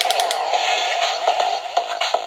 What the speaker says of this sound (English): Yep, that's the sound effect of the key.